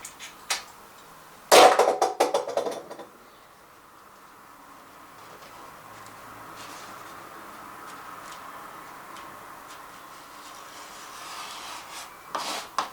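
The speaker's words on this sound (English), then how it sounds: "I'm just using this knife to cut the scrim tape because my filling knife isn't sharp enough." A utility knife slices fiberglass scrim tape while a wall is prepped for bonding plaster, giving a short, close rasping scrape before a quiet room hum and a faint scuff at the end.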